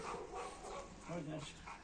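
A dog barks and whimpers near a tortoise in a short, close burst of yips, with someone talking over it.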